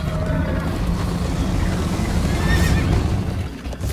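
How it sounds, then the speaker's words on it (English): Horse neighing in the video game Minecraft Story Mode, a loud whinny amid galloping hooves, wind and a rough, busy game mix. "First time on a horse here."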